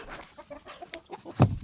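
Backyard chickens, among them Brahma and Wyandotte birds, cluck in short, busy bursts at close range during feeding time, with one louder squawk near the end.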